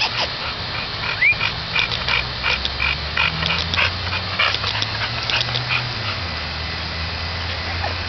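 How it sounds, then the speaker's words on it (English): A blue pit bull dog makes close, snuffling, whimpering and panting sounds in short, irregular bursts over a steady background hum. "Shit, Brendo ugly ass dog and shit."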